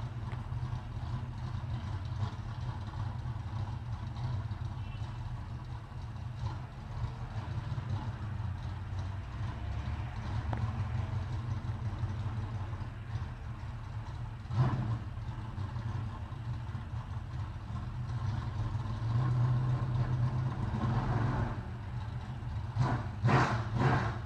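A sprint car engine idles late at night in a residential neighborhood with a deep, steady low rumble. A few brief louder surges rise toward the end, with no talking.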